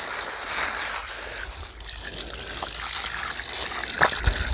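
Water pours from a container into a planting hole dug in friable soil for a fruit tree, a steady gushing trickle with a few splashy bursts near the end.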